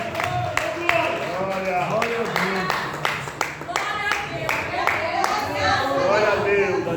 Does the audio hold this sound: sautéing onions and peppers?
no